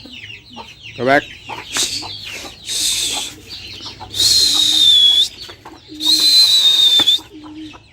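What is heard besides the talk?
hen and chickens clucking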